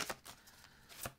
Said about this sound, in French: je vais prendre une carte pour chacun. Carte conseil pour chacun.